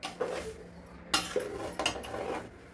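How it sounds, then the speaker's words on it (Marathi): A spoon clinks and scrapes against a pan while methi and dink ladoo mixture with melted jaggery is stirred, giving a few sharp metallic knocks between softer rubbing sounds, close and fairly quiet. "आता हे सगळं मिक्स करायचं आहे आणि त्याचे लाडू वळून घ्यायचे."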